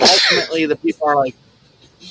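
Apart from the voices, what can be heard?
sneeze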